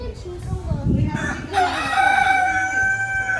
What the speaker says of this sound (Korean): 얘가 완전 그 수탉이다.